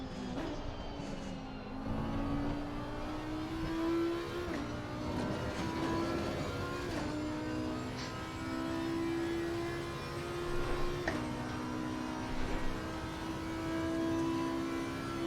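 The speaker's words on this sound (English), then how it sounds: "Lambo is actually my favorite sound car here on the game." A Lamborghini race car engine in Assetto Corsa Competizione drones steadily, its pitch climbing and dropping through gear changes, with brief snarling revs and shifts over roughly fifteen seconds.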